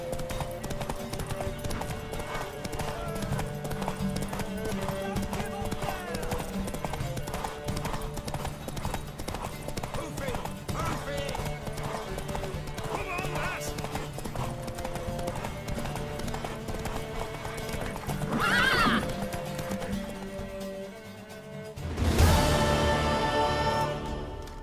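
A horse gallops through a race in The Witcher 3, its hooves drumming in a continuous rapid clip-clop under music and game sounds. A brief brighter burst near the end may be a neigh.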